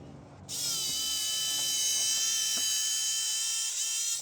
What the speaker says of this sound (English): then I can cut that out with the jigsaw